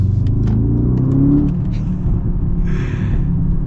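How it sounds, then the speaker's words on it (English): Mercedes-AMG GLS 63 twin-turbo V8 SUV accelerating, a loud, close, steady engine drone that swells then eases slightly, heard alone without talk. "you gotta just love this twin turbo V8. This is such a good engine."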